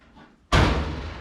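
Car door being fitted onto the body during bodywork lands with a single sharp slam followed by a sustained rumbling resonance.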